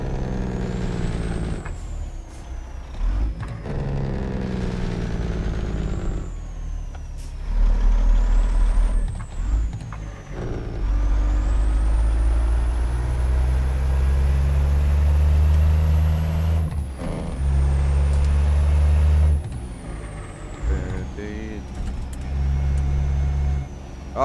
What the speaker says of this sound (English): Oh, she sounds good. I like this truck